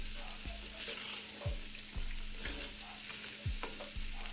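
Vegetables for sweet potato chili fry in a cast iron pan with a steady, close sizzle, broken by a few louder bursts of stirring every second or so.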